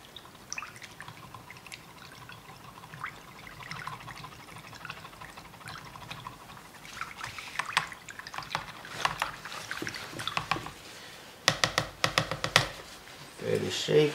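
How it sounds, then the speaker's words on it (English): A roller pen is dunked and swished in a tub of plain tap water, making quiet drips and sloshes that grow into louder splashing and a few sharp clatters near the end. "let's try to clean this in the water. This is just a normal water from tap. I'll just dunk this in this tube"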